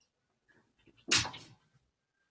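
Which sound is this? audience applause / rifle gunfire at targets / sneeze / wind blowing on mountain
sneeze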